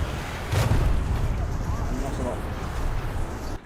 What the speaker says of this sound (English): Oh, there's a missile going after you.